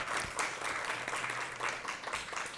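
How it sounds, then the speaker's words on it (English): Audience at a lecture valedictory session applauding, a short burst of steady, dense clapping from a room full of people, heard alone at moderate level. "a big round of applause"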